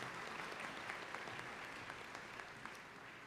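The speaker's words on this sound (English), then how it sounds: "a round of applause for students who received honors." A crowd at a graduate awards ceremony claps steadily in sustained applause, a dense patter of many hands heard from a short distance, with no voices over it.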